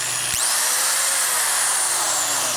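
A Metabo/Hitachi W6V4 4,500 RPM drywall screwdriver spins up with a click and then runs at a loud, steady high-pitched whine, its pitch sliding gently as the motor settles.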